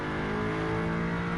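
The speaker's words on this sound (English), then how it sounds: "right at that red line, that neckline, where you hear that screaming a little bit of the engine" A race car engine in Gran Turismo screams near its redline, a loud, sustained high-pitched revving drone that holds steady without pause or talk.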